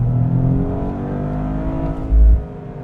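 A 2025 Toyota GR Corolla automatic pulling hard under acceleration, a steady engine drone with a climbing harmonic whine heard from inside, then a brief low thump near the end; no talking.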